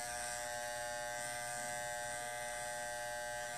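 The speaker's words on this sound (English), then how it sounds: "Always turn your clipper to the side." Electric hair clipper buzzing steadily and close while trimming sideburns during a fade haircut, a continuous even hum with no pauses.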